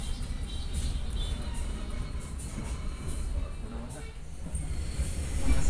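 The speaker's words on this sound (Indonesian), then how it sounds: "kereta api lokal Cibatuan persiapan memasuki stasiun Purwakarta" A local passenger train rumbles into Purwakarta station in Indonesia at night with steady low clatter and wheel noise, gradually growing louder toward the end, with faint chatter in the background.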